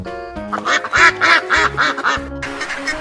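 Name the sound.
duck quacking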